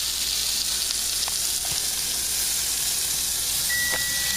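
Pork chops sizzle in a frying pan with a constant loud hiss and crackle, a few light taps of utensils, and a short electronic beep near the end.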